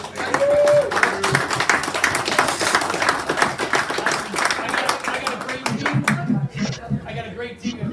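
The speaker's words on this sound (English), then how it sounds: "I just want to just round of applause for Andrew" A live podcast audience claps in a burst of applause and tapping, mixed with voices talking over it, tailing off toward the end.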